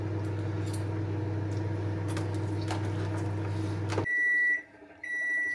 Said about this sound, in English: that's in the microwave now